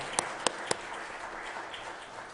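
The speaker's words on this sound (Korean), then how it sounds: "우리 뜨겁게 축하의 박수 해주시겠습니다" A church congregation at an Easter thanksgiving service applauds in celebration, a few sharp near claps standing out at the start before settling into a soft, distant wash of clapping.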